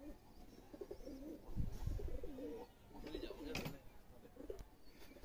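Malwai (Punjabi) pigeons give soft, throaty coos in a quiet rhythmic run, close but faint, with a few light rustles.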